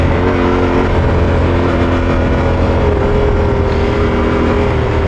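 A 2024 Yamaha Tenere 700 Extreme adventure motorcycle accelerating hard, its engine note a loud, continuous droning roar that climbs steadily in pitch close by, with no talking.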